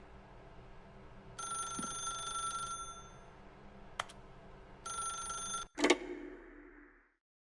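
An old-fashioned telephone in The Stanley Parable video game rings in two long bursts separated by a pause, loud and close, ending with a clunk as the receiver is lifted.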